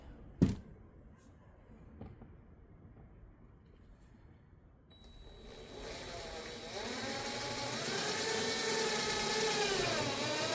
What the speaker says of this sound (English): I also have to drill a hole here where my wire will be